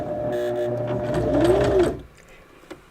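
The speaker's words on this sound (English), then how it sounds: "I'm going to sew up to that area" A sewing machine stitching with contrasting thread runs in a close, steady whirring burst with a rising pitch for about two seconds, then stops, leaving near silence and one small click.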